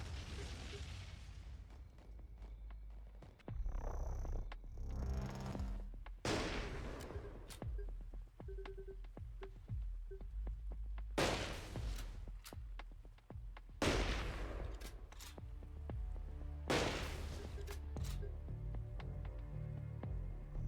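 Sniper rifle shots ring out in the Long Gone Days sniper minigame, several sharp loud cracks spaced irregularly over a low ambient hum, each followed by a brief ringing tail.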